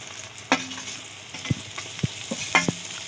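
Chicken pieces frying with onions in a wok over a village-style cooking fire, sizzling steadily while a utensil stirs with several distinct clanks and scrapes against the metal, close and without talk.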